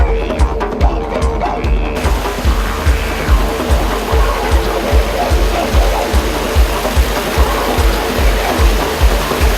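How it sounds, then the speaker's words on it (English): A waterfall in the Tamborine Mountain forest, a loud, steady broadband roar of falling water with a rhythmic low rumble throughout, close and continuous. "We're going to go check out the waterfalls now."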